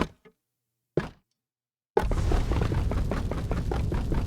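Meteor spell from the Wizards mod in Minecraft 1.19.2 strikes with a sudden booming impact, followed by a dense, sustained rumbling crackle with rhythmic thumps, loud and close after a few brief faint knocks.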